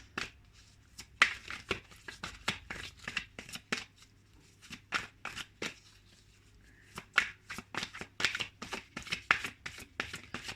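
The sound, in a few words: shuffling tarot cards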